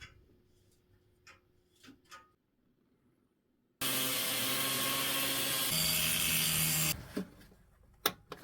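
Bolts are pulled from a bent piece of old angle iron: a few sharp metallic taps and clicks, then a loud power tool runs steadily for about three seconds, followed by more scattered clanks, close by with no voices.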